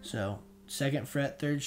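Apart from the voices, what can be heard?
No everyday noise stands out behind the speech.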